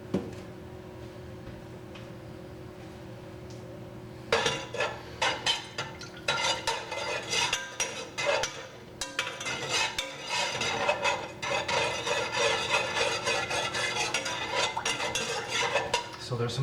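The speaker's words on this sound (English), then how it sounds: "Let's go ahead and add some salt to our pots now." Salt pours into water and a utensil scrapes and clinks around inside metal pots, a busy, close stirring sound after a few quiet seconds.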